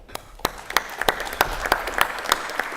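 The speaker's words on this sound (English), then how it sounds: "I don't know if I was just applauding for myself or for Paul there" A conference audience at a U.S.-Middle East relations event applauds with scattered, distinct hand claps in a steady patter that carries through the full moment, with no talk over it.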